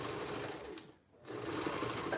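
Sewing machine stitching fabric in two close, steady bursts of rapid mechanical chatter, with a short pause between them.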